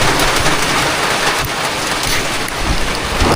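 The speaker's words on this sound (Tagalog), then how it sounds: "Lakas ng ulan." Heavy rain pours during Typhoon Basyang, a constant loud roaring hiss of downpour with a low rumble beneath, steady and unbroken throughout with no voices.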